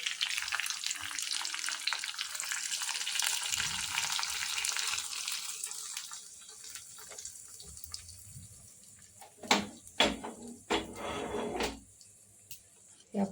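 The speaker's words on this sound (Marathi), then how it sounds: "हे आता फोडणी आपण हे वाटलेल्या चटणीमध्ये घालून घेऊ" Hot tempering poured into ground chutney for medu vada sizzles loudly for several seconds, fading into quieter crackling, followed by a few sharp clatters and stirring knocks.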